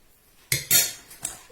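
Spoon scooping fromage blanc into a bowl: two or three quick clinks and scrapes of metal against the dish, close and sharp, with quiet around them.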